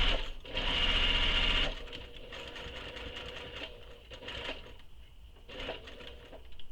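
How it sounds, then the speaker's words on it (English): A sewing machine runs close by as it sews a seam on a handbag, with a loud opening burst followed by quieter, uneven stretches of stitching. "So sew this again with the seam allowance she gives in the pattern."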